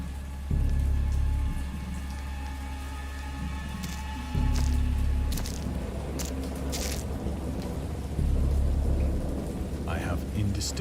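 Stormy weather with steady rain and low, rumbling thunder swelling in three heavy surges, fairly loud and continuous throughout with no voices.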